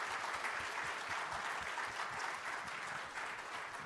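An audience at the District of Columbia Clean Energy Summit gives the panelists a round of steady, moderately loud applause, with many hands clapping evenly and fading slightly at the end.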